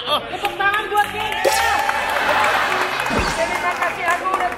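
People clap during a music video shoot, scattered clapping and cheering under loud, lively chatter and overlapping voices.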